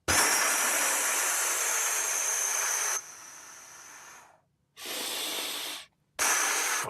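Controlled breathing exercise with tension then release: long forceful hissing exhalations through the mouth, close and loud, separated by short silent pauses, with no speech.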